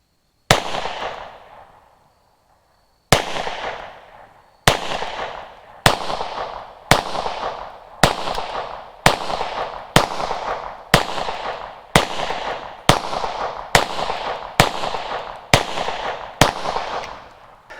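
A Hudson H9 pistol fires about fourteen sharp, loud shots at a range of roughly 10 yards. Two early shots are widely spaced, then the rest settle into a steady rhythm of roughly one per second, each with a short decaying echo.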